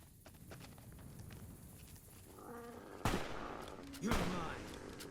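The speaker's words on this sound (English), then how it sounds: "Why are you shooting the Brahmin?" Gunfire aimed at a Brahmin in the video game Fallout: New Vegas: two loud, sharp shots about a second apart, ringing over low game ambience with some faint clatter.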